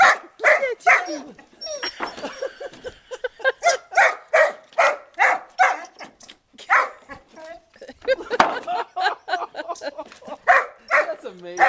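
A dog barks again and again in an excited, yipping burst while chasing after a wood chip, the barks close and loud with occasional whimpers, and people talk and cheer over them throughout.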